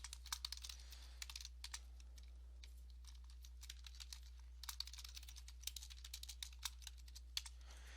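Steady typing on a computer keyboard during data entry into a foster care training form, quick light key clicks in an uneven stream, close and fairly quiet over a low constant electrical hum.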